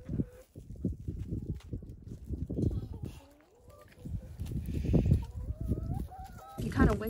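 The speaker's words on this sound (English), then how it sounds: "We have 10 chickens." Chickens on a homestead farm cluck and squawk in short bursts, fairly close, mixed with other farmyard animal calls and background noise, with a sharper cry near the end.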